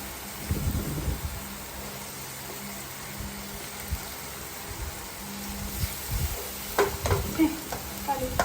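Sliced onions sizzle steadily in a pan on low heat, with scraping stir strokes growing busier toward the end.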